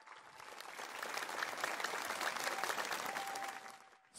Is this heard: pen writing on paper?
no